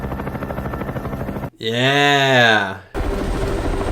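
Steady rotor roar and whine from a helicopter in the 1990 film The Hunt for Red October fills the scene, briefly broken by a loud shouted voice before the engine noise returns at full level.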